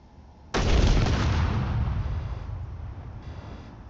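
A single heavy gunshot in a video game, aimed at an antenna, booms suddenly and loudly, then its rumbling echo decays slowly over a few seconds.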